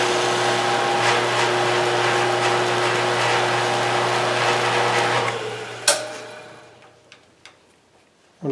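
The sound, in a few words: milling machine end mill cutting material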